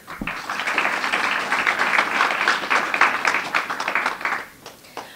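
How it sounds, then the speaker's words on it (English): At a scholarship event for young achievers, an audience gives a brief, full round of applause for the St. Paul Public Foundation team, rising quickly, staying dense for a few seconds, then thinning out. "I want to give a round of applause for Mike and the whole team of St. Paul Public Foundation"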